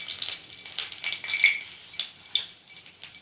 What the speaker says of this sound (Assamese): প্ৰথমতে তেলটো গৰম কৰি 2 স্পুন শুকান জলকীয়া দিছোঁ